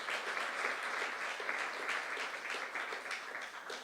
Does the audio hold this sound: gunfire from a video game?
no